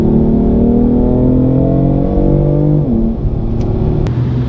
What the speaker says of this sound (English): It offers as well the competition exhaust or sports exhaust, and it sounds great.